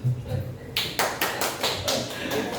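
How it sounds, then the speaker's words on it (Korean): Church congregation applauding during an afternoon worship service, several sharp rhythmic bursts of clapping that start after a moment of low murmuring and carry on close and lively. "우리 하나님께 감사의 박수 드립니다"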